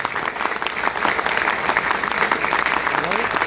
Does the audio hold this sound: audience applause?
yes